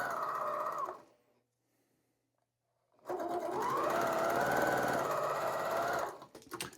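Sewing machine chain piecing quilt scraps, running in a steady fast stitching whir for about a second, pausing in near silence for two seconds, then stitching again continuously for three seconds, close and clear.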